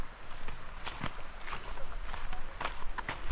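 Horse hooves clip-clop at a steady walking pace while the horse hauls a heavy load of eggplants on a farm, with scattered voices and outdoor background noise around the hoofbeats.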